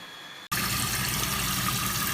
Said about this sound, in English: Rinse thoroughly, keeping hands above the elbows.